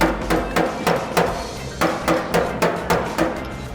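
Sharp metallic knocks of a slide hammer pulling out a dent repeat in a quick, uneven rhythm, about a dozen impacts close by.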